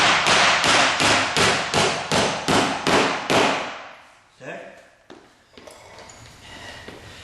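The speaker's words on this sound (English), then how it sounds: "Got my hammer head on the wood just ever so slightly" Hammer blows on a nail set drive baseboard nails flush into wood, a rapid run of about ten sharp, loud close taps, then a few slower, softer strikes with handling noise.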